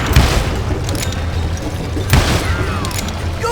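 Gunfire in the western shooter Call of Juarez Gunslinger, a few loud booming shots over a bed of game noise and rumble, with faint crackling in between.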